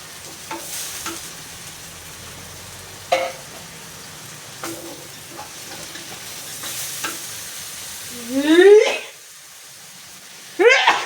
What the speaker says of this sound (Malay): kita tengok daging kita. Dia kita goreng layu-layu je